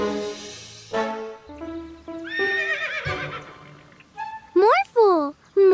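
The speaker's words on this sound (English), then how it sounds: "Morphle, morph into a horse." A cartoon horse at a medieval fun fair whinnies several times in loud, wavering neighs, with clip-clop hoofbeats and character voices speaking around them.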